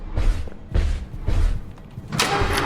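Door opening in a video game set in a factory, heard as three loud, evenly spaced heavy thuds with a rattling rumble, followed by a brighter hissing sweep at the end.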